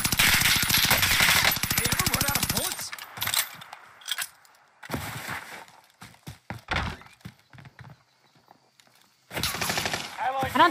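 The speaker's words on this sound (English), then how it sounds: "it shoots so fast and it has like no recoil" Automaton rifle fired in Call of Duty Warzone Vanguard on Caldera: a long, very rapid burst opens loud and close, followed by scattered shorter bursts and single shots with quiet gaps, and another burst near the end, with voices talking in between.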